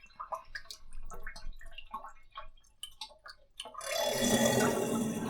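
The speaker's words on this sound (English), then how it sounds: "Drain the water." Water rushes loudly down a sink drain after the washing of sea urchin roe, a broad steady gurgling wash that follows a stretch of clinks and small handling sounds.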